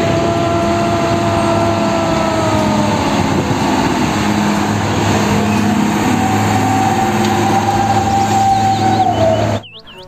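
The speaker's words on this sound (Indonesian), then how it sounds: "Yang ini mobil truk molen." A large concrete mixer truck's engine runs with a loud, steady, close-up drone and rumble, then cuts off abruptly just before the end.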